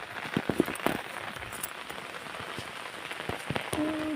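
Rain patters steadily on a surface outdoors where a tree has fallen, with a few louder drops and splashes early on and a brief tonal whine near the end.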